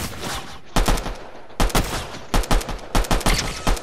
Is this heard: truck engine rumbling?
no